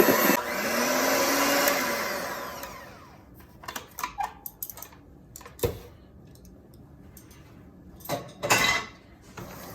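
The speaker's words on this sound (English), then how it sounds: "now we're going to mix with the hand mixer for a minute or 2 on medium" An electric hand mixer whirs on medium speed through cupcake batter for a few seconds, a loud steady motor drone, then stops, followed by scattered clinks and scraping of bowl and utensils.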